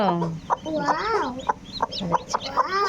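A desi hen clucks repeatedly beside her fourteen newly hatched chicks, with short rhythmic clucks and higher chick peeps mixed in at close range.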